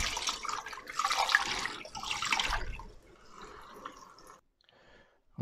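Tap water runs into a cooking pot in a home kitchen, a hissing splashy stream that surges, eases and then stops with a few faint drips, without talk.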